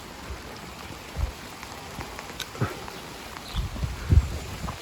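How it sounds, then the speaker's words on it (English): Rain begins falling on garden shrubs outdoors, with scattered drops and soft patters over a steady background hiss, and a few louder taps close by. "Oh, here comes the rain."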